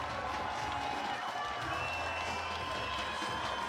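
A crowd cheers and roars at a 3x3 basketball game at the 2016 FIBA 3x3 U18 World Championships, a steady, sustained wash of noise filling the whole moment with no break.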